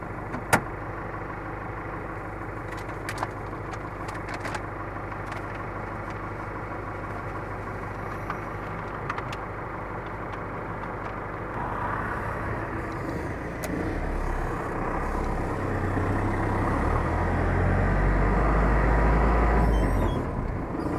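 A truck engine runs steadily with a low, continuous rumble throughout, a few faint clicks and knocks on top, the drone growing louder and deeper toward the end as if revving or pulling closer.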